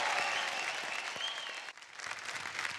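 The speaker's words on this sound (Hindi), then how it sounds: "जोरदार तालियां हो जाए" A studio audience on a televised dance competition show breaks into loud, dense applause that runs steadily, dips briefly near the end, then swells again.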